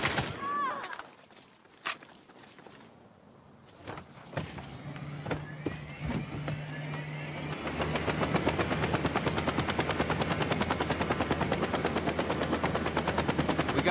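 Helicopter rotor thump and rapid gunfire from the Saints Row (2022) video game on PC, with sporadic sharp shots early, then a steady loud rhythmic chopping drone filling the second half without pause.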